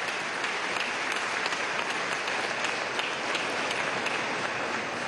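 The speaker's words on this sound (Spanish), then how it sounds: "le damos un aplauso de amor, de agradecimiento por la atención de este joven" Sustained applause from a gathering honoring hospital nurses and medical staff, steady dense clapping throughout without pause, fairly even in loudness and no voices over it.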